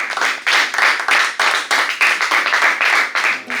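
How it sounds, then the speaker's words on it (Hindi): An audience applauds a worship singer with rapid, close, fairly loud clapping in even pulsing waves, the hand claps strong and continuous for a few seconds. "आप सबकी भरपूर तालियों में उनकी हौसला अफजाई के लिए मैं चाहूँगी आप सब ज़ोरदार तालियां बजाएं।"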